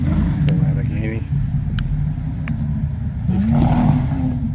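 A Lamborghini's engine rumbles and revs at an outdoor car show, a loud low growl swelling near the end, mixed with crowd noise and people talking nearby.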